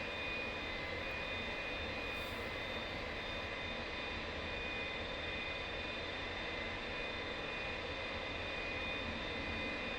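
An F-86 Sabre jet engine running during startup, a steady loud roar with a constant high whine layered on top, unbroken and even from start to finish with no voices.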